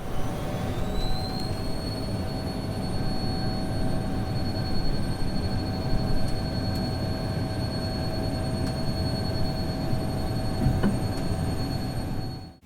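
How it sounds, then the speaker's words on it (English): An Embraer Phenom T Mk1 training jet from 45 Squadron performs a go-around and retracts its gear while climbing, giving a steady, loud roar of jet engines with a high, whining tone held throughout and no voices. "That was the sound of an Embraer Phenom T Mark I from 45 Squadron,"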